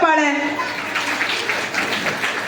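A voice speaks briefly at the start, then an audience bursts into dense, sustained applause that carries on to the end.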